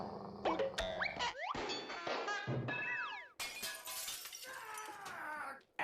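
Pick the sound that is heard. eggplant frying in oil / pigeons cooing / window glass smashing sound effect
window glass smashing sound effect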